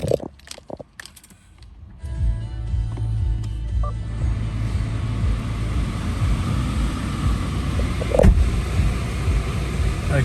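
A 2015 Subaru WRX Premium AWD sedan with a clutch fires up by push button: a brief crank, then a loud, steady idle rumble close by that holds throughout, with a faint swell near the end.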